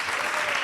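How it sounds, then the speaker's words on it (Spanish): Audience applause in a short burst of dense, steady clapping, fairly close and filling the moment without talk. "Fuerte el aplauso para él."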